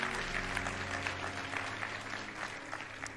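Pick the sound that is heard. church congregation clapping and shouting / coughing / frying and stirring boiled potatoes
church congregation clapping and shouting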